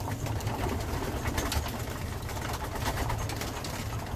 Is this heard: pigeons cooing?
yes